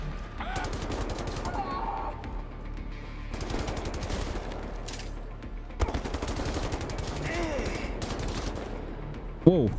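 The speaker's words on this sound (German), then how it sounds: "Alter, was ist das für eine krasse Waffe?" Heavy automatic weapon fire in Wolfenstein: The New Order, loud rapid bursts separated by short pauses, with a sharp impact near the end.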